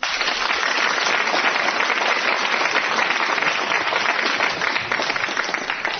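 Studio audience at a radio quiz show claps for a contestant, a steady, even wash of many hands at close range that holds at a constant level from start to finish.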